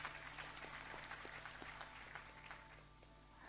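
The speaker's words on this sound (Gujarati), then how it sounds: "જોરદાર તાળીઓથી વધાવો." An audience at a family gathering claps in steady, moderately quiet applause that tapers slightly toward the end.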